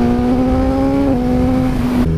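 A Suzuki GSX-R1000R motorcycle fitted with a Pipeworks exhaust idles with a steady, loud, tonal engine note, rising briefly in a light rev before settling and then dropping away near the end; no one speaks.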